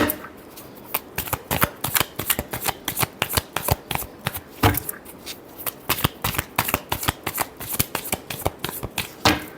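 A deck of tarot cards is shuffled over and over, a continuous run of crisp, close flapping and riffling bursts in quick rhythm lasting nearly ten seconds with no voices.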